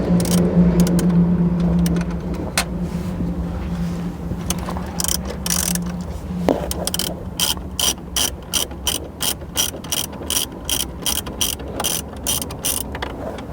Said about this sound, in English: We are now going to remove the two 10mm bolts on either side of the factory screen.